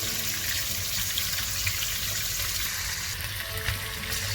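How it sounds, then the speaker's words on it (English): Oil sizzles and crackles steadily as chicken shallow-fries in a pan, with small pops breaking through the constant hiss. No one speaks. "Like this, you can fry the chicken."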